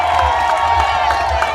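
Large roadside crowd cheering and clapping steadily for riders arriving at a cycling race in Guadeloupe, a dense continuous roar of applause with shouts rising and falling over a low rumble.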